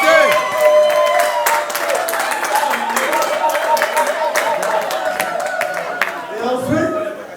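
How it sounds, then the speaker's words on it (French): Audience clapping at an evening event, with sharp individual claps over a crowd and voices, plus a steady tone, continuing for several seconds with some chatter. "Applaudissez!"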